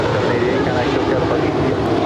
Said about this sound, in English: And that is JetBlue 2788 off to Boston, a 5-year-old A321.